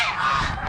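Geese at an Amish animal auction give one brief, loud, nasal honk that is close by and fills the short moment.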